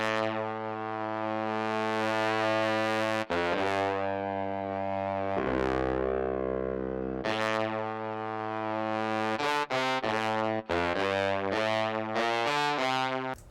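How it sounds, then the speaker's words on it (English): Synthesized 1970s soul-style sample built from stock Logic instruments, shaped with EQ and distortion: sustained harmonic chords with layered tones, brief breaks and a busy stabbing run near the end, loud and continuous with no voices. "I put this EQ and added this distortion too."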